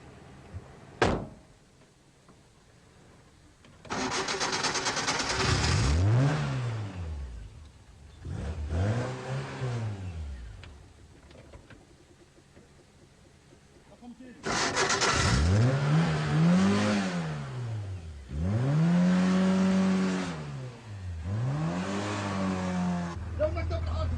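Car engine revving repeatedly during a driving lesson at a road intersection, rising and falling in several loud surges with quiet gaps between, while people talk inside the car.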